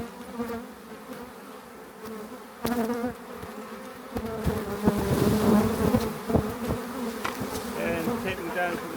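Dense buzzing of a honeybee swarm, a steady insect drone that swells louder midway, with scattered bees passing close and occasional handling thumps.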